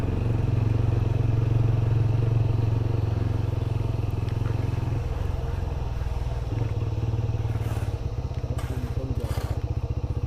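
A motorcycle rides a mountain road from Siliguri toward Gangtok, its engine droning steadily and close with rumbling road noise and wind, the engine note shifting into a choppier pulse near the end.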